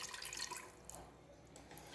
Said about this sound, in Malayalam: അതിലേക്ക് ഞാൻ ഒരു ഗ്ലാസ് വെള്ളം ഒഴിച്ചു കൊടുക്കുന്നുണ്ട്